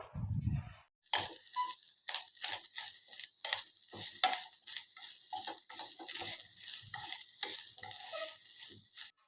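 Fried doddapatre leaves stirred with half a cup of grated coconut in a pan, a series of rhythmic scraping and clattering strokes of a spoon against metal, close and moderately loud, separated by short pauses, with no voices.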